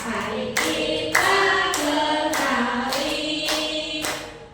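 A group at an Indonesian elementary school claps in a steady beat along with a song, the loud, even claps repeating about twice a second over the music.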